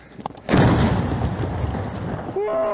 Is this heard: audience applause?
no